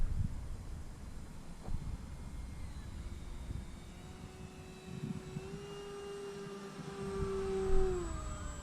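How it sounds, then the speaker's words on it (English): An E-flite Maule M7 RC plane flies at a distance, its motor a steady whine that climbs in pitch, with thin servo whines rising over it and a short louder swell near the end. "And like all the Maules, they seem to whine, and the servos seem to whine."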